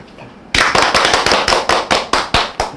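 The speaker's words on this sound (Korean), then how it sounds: "박수 한번 치고 들어갑니다." Close, loud hand clapping in a steady rhythm of about a dozen sharp, evenly spaced claps from a small studio group on an arts broadcast, starting abruptly after a quiet moment.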